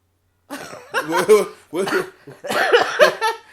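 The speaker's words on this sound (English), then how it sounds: "I'm sorry, I had to cough" A few sharp coughs close to the mic in quick bursts, separated by short pauses.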